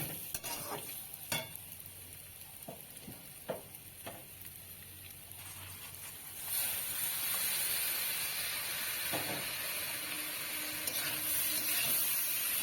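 Washed, drained rice stirred into hot oil with grated ginger in a pan for bhuna khichuri; several sharp spoon scrapes and knocks over a low sizzle, then a louder, steady frying hiss as the rice settles in.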